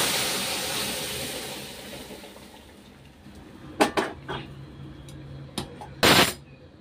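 Lentils poured into a hot pan of tempering spices for dal: steady sizzling hiss, then a series of sharp metallic clanks and scrapes of utensils against the pan, close and loud.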